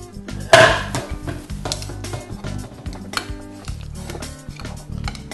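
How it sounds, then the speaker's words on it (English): A spoon clatters into a kitchen sink with one sharp metallic clang, followed by softer rattles and kitchen clinks while pumpkin pie is being made, close by and without talking. "I just put the spoon in the sink"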